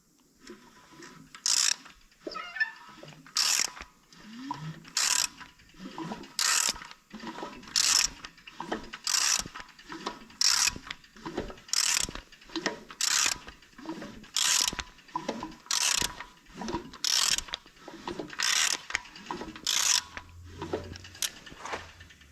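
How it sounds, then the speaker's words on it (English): A steady, rhythmic lifter tick repeats about every second and a half while a 5.3 V8 engine cranks over, sharp metallic clicks standing out above a low churn. "She's got a lifter tick."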